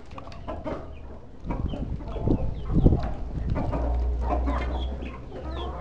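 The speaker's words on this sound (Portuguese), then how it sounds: "olha o galão, olha o galão" A rooster among a flock of hens in São Paulo clucks in short, repeated bursts at close range, joined by other fowl calls, with a louder stretch in the middle and a steady low rumble underneath.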